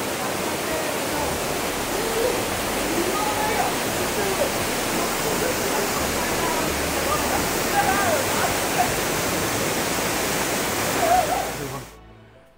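A powerful waterfall at Cherrapunji pours down, its spray rising like cloud, giving a dense, steady roar of falling water up close that holds loud and unbroken throughout before cutting off at the end.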